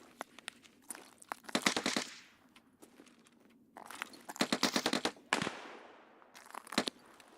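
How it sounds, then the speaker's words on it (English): Gunfire in the Escape from Tarkov video game, with several bursts of rapid shots, some close and crisp and others more distant, arriving in clustered volleys separated by brief pauses. "Sounds like there is some shooting"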